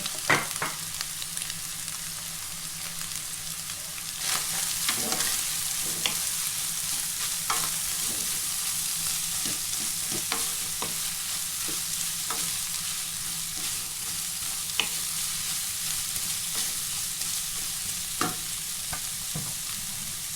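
Vegetarian ginger stir-fried in a pan, a continuous close sizzle with repeated scraping and stirring strokes of the utensil against the pan throughout.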